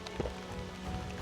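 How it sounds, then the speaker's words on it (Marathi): Heavy monsoon rain in the Konkan region pours down during a camping trip, a dense, even roar that fills the short stretch, close and without talking. "हे पाऊस लय जोरात आलेला आहे"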